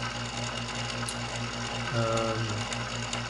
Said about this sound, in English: This is my lathe to adjust the length of the cases.